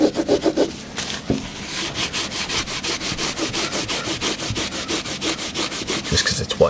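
A Wonder Wipe rubs away small bits of white silicone at the front of a window sill with fast, steady back-and-forth scrubbing strokes, close and fairly loud, with no talking.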